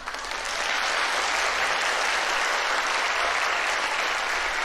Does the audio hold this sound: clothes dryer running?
no